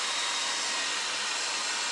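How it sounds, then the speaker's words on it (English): A hair dryer blows steadily over chalk paste on a craft piece, a loud, even, breathy whoosh running unbroken at close range. "It still dries fairly quickly with a little bit of help of a hair dryer."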